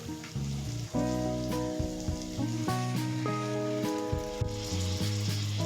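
Whisked yogurt hitting fried masala oil in a pan for egg curry, giving a steady crackling sizzle with spitting pops, close and moderately loud, no voices over it.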